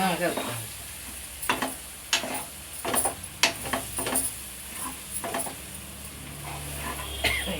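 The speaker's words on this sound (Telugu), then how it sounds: "ఇవన్నీ వేసి మంచిగా కలుపుతాం" Goat tripe (boti) curry is stirred in a pan, a spoon scraping and clinking at irregular intervals over a continuous low sizzle, with sharp close taps standing out.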